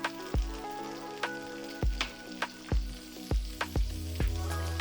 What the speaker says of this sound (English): When all shrimp are cooked, add more butter in the same skillet.